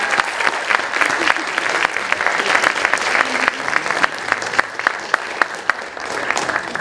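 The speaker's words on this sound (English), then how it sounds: "So one more round of applause to all of our" Sustained applause from an audience at a community awards celebration, steady dense clapping with a few sharper individual claps standing out near the end.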